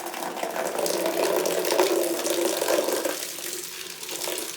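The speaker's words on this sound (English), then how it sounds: "that's gonna drain all the water from the backflow outside down into the house" Water drains from a sprinkler backflow drain into a basement, a steady rushing gush that holds strong for several seconds before easing slightly, close and fairly loud with no talking.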